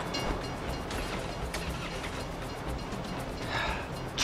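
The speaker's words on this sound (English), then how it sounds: "If you were local, you'd know the train comes by right now." A train in GTA V rumbles past with a steady heavy roll and rhythmic wheel clatter, loud and close throughout, swelling slightly toward the end.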